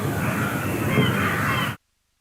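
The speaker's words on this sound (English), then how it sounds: "Birds are getting excited," Birds call around a cricket ground during a tour match, a busy wash of chirps and caws under crowd ambience that cuts off abruptly near the end.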